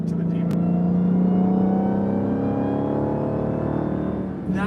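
Dodge Challenger SRT Demon V8 engine under light throttle, a loud steady rumble with rising harmonic tones as revs climb gently, close by, with a voice speaking over it.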